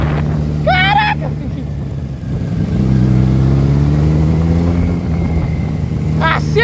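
Kawasaki Z1000 2013 motorcycle engine droning loud and steady while riding, pitch rising as it accelerates, with wind rush and brief voice-like chirps over it.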